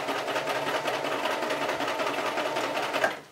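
A sewing machine stitching through fur for a Santa hat: a steady, dense mechanical whirr running close and continuous for about three seconds before stopping abruptly.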